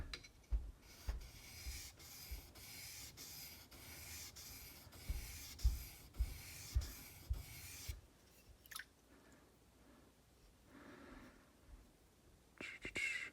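A Sloyd knife tip is drawn over a sharpening stone in a steady series of rasping strokes, close and fairly quiet, then the strokes stop and softer handling noises follow near the end.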